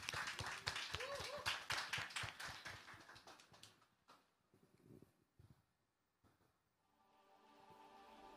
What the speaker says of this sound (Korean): 우리 하나님께 영광의 박수 올려드리고 찬양하겠습니다